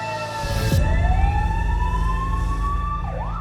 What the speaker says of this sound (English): That ambulance you can hear is our intensive care paramedic